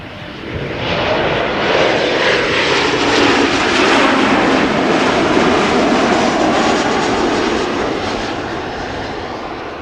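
An Embraer 190 jet airliner roars past close by while landing at Amsterdam Schiphol Airport, its broad engine rumble swelling for several seconds and then slowly easing off.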